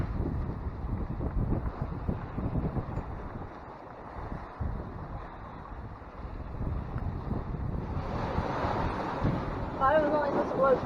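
Strong wind gusts at sea buffeting a sailing boat amid giant waves in the Southern Ocean, a constant roaring rumble of wind noise and water rushing against the hull, swelling louder toward the end.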